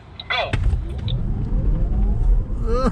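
A Porsche Taycan electric car accelerates hard on Sepang Circuit, a rising whine and road rumble building from inside the cabin, with excited voices exclaiming over it.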